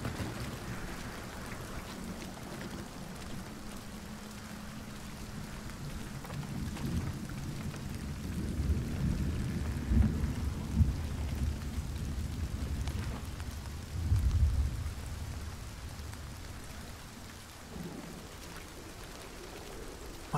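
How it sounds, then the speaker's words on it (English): Steady rain pours in the Hunt: Showdown game world, with low rumbling thunder rolling in twice over the hiss, loud and close, no voices. "Oh man, this rain."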